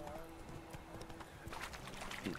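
Horse hooves clip-clop in The Witcher 3, a quick light rhythm of steps under faint game ambience and a brief voice, moderately quiet throughout.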